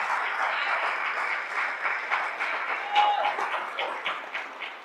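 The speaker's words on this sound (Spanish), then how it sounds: "dé un aplauso al Señor ahora" A church congregation applauding, dense continuous clapping from many people filling the room, fairly loud and even with a few sharper individual claps standing out.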